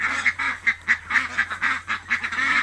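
Ducks quack over and over in a quick, steady rhythm, close by, with no talking, outdoors in a rural yard with chickens.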